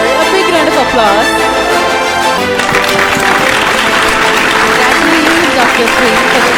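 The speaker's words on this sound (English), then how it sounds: "put your hands together for the award winner. A big round of applause" Applause for an award winner at a scientific awards ceremony, steady crowd clapping throughout, loud and close, with an announcer's amplified voice and music running over it.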